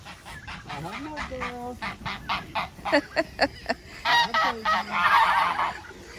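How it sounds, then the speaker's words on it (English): Geese honking repeatedly at close range, a noisy run of loud, brassy calls that overlap and grow denser toward the end. "The three geese have finally started integrating together."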